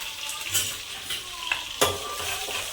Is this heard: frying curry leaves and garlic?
yes